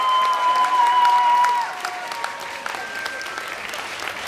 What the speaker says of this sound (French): je vous demanderai d'applaudir Joel Sherman